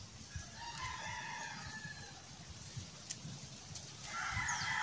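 Chickens cluck softly in short, scattered calls while scratching through freshly dug garden soil for worms, with a brighter burst of calling near the end.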